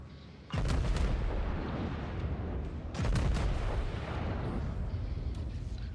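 Two heavy main-gun volleys from the battleship Nagato in World of Warships, booming at about half a second and again near three seconds, each followed by a long rumbling roar that fills the rest of the stretch.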